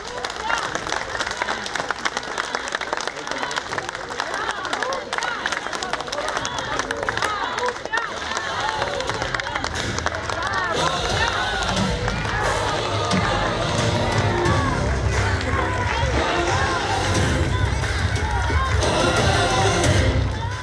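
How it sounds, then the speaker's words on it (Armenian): A crowd greets Gagik Tsarukyan with sustained, loud applause and cheering that builds over about twenty seconds, with voices mixed into the clapping. "Բարձր ծափերով դիմավորում են Գագիկ Ծառուկյանին։"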